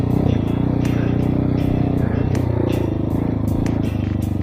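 A Chinese Hawk 250 motorcycle heard while riding, a continuous loud engine drone with a steady rumble and some clatter, recorded up close on the move.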